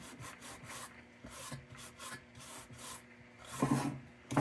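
Rapid back-and-forth rubbing of 800 grit sandpaper on a vintage kerosene can, close and rhythmic in short scratchy strokes, with a few harder rasping passes near the end and no talk.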